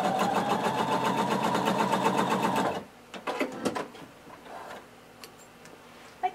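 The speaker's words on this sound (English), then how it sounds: "So we're going to just do a basting stitch." A sewing machine runs a basting stitch on a blazer piece in a fast, even rattle for about three seconds, then stops, followed by a few soft handling clicks and fabric rustles.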